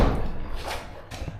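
Stuck door of a vintage Mercedes W123 being tried by hand. Heavy metallic thumps and a couple of clunks come in quick succession, close and fairly loud, with no talk.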